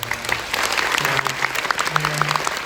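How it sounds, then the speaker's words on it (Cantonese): A theatre audience at the Hong Kong Cultural Centre applauds steadily at a curtain call, a dense continuous clatter of many hands, with a voice speaking faintly beneath it. "所以我都俾啲掌聲"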